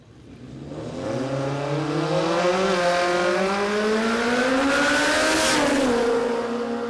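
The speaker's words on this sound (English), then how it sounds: "we've only got one car front in this pass here, and that is Nick Baxter" A Fox body drag car with a 3RZ four-cylinder engine makes a radial-class pass at a drag strip, its engine revving loud and steady as it rises in pitch through the gears, heard alone over about six seconds.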